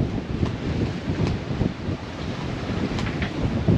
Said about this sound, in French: Ça souffle encore, hein.